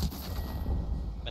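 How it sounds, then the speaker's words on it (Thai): Video game gunfire comes as a muffled, rumbling burst of shots under a busy mix, with no clear separation between individual rounds. "มันยิงหมดเด้"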